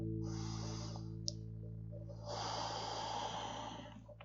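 Slow, audible breaths during a partner cat-cow yoga movement in a quiet bedtime setting, one long exhale followed by a fuller inhale, close and soft, with no talking.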